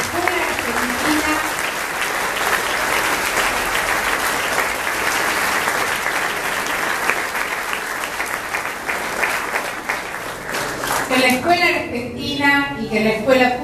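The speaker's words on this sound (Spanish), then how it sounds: "Quiero también agradecer un enorme aplauso a todos los docentes" A big round of audience applause for teachers at an Argentine science and education event, loud continuous clapping for about eleven seconds before a voice begins speaking as it dies down.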